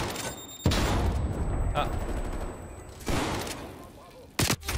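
Single slug rounds fired from a shotgun in a video game, two loud broadband blasts about two and a half seconds apart with a sharper crack near the end, over a steady noisy game background with a brief voice.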